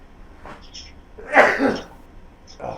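A single sharp sneeze bursts out mid-sentence during a casual sports talk show about Oklahoma Sooners football, loud and close, with a brief voice just before it and another short exclamation right after.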